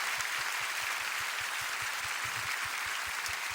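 Steady, dense applause from a church worship audience cheering on a band's members, a continuous even wash of many hands clapping with no voices.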